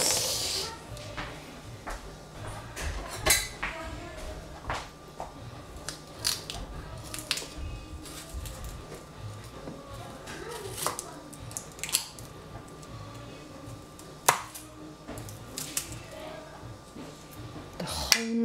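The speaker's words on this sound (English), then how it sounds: "I do not like to cut onion at all." A knife chops through onion with repeated short, crisp cuts in an irregular rhythm, close and moderately loud, over faint background room noise.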